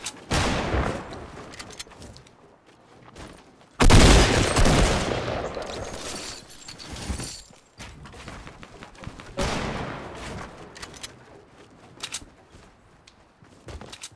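Loud bursts of automatic gunfire crack out in a first-person video game shooter, with a dense fusillade in the middle and scattered shots and thuds before and after.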